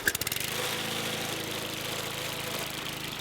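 A push lawn mower catches on the first pull, with a brief rapid sputter giving way to a steady, loud idle that runs on alone.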